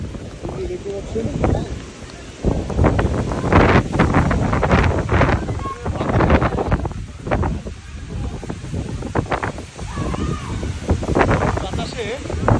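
Strong Baishakh storm wind thrashes through trees in continuous loud gusts and rushing buffets, with someone talking over the roar.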